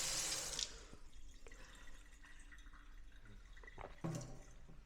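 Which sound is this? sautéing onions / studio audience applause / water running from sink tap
water running from sink tap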